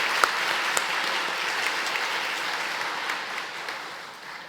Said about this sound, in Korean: 모두 이 내빈들을 위해서 박수로 환영하겠습니다